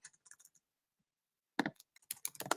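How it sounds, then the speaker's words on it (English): Bursts of computer keyboard typing, quick key clicks in two short runs separated by a quiet gap, close and clear with no talk. "I'm going to type that in"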